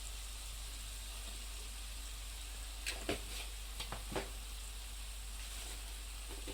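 Red chili powder hits hot oil with a steady hiss of sizzling, joined by a few brief clinks and scrapes partway through, moderately loud and with no voices.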